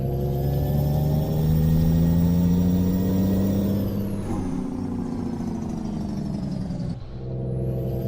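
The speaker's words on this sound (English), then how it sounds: "Annoy all the office workers with your big loud engine brake." Heavy truck in Euro Truck Simulator 2 driving near the Volvo factory, its big engine brake giving a loud, sustained low rumbling drone that shifts in pitch midway and dips briefly near the end.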